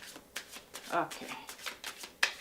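Quick, crisp riffling of a deck of stiff oracle cards being shuffled, a series of soft slaps and flicks close to the microphone, with a voice faintly present.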